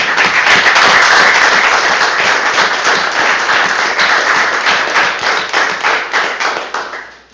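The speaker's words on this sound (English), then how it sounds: "everybody should applaud this group here" An audience at a borough council meeting breaks into loud, sustained applause for a community group, a dense wash of many hands clapping steadily and slowly thinning toward the end, with no talk over it.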